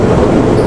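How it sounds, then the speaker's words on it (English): PATH train toward Newark, a loud, close, steady rumble of rail cars running through a tunnel, low and continuous with no voices. "This is the train that takes us to Newark. There's a path train and I'm getting inside now."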